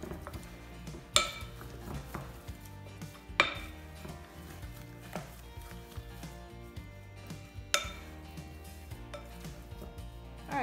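Cream puff dough of flour is mixed in a bowl, with steady thick stirring and periodic sharp clanks of the utensil against the bowl, close and moderately loud, with no talk.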